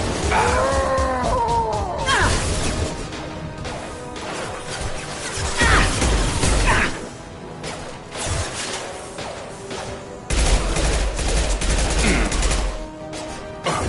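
Gunfire rattles through a Mass Effect 2 battle in repeated loud bursts and crashing impacts, with brief lulls between volleys and no voices audible.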